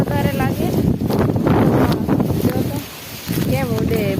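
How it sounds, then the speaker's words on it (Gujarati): Strong wind gusting around a coconut tree in a village, a loud continuous rushing roar that swells and briefly dips, with people talking over it. "આટલો બધો પવન"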